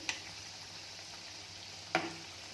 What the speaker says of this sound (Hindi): देखिए हम इस तरह से इसे पलट पलट करके फ्राई कर लेंगे